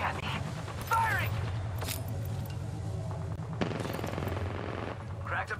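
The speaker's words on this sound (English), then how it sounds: "They're shooting at me. Firing!" Gunfire in an Apex Legends firefight rattles in rapid automatic bursts over a low, steady rumble, fairly close and loud, with brief game voice chatter in between.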